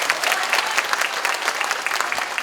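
An audience at a Democratic Party lecture event in Jungnang applauds, with dense, even clapping from many hands that holds steady and close for the whole stretch.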